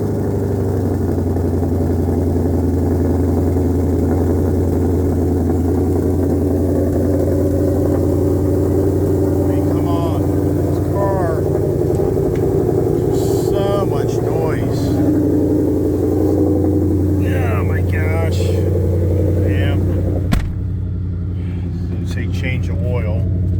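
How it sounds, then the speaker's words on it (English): A Ford Shelby GT500 drives along with its engine giving a steady deep rumble inside the cabin, shifting in pitch at times as it revs, while someone talks over it almost the whole way. "I'm gonna take a little ride in the GT500"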